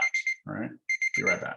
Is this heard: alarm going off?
yes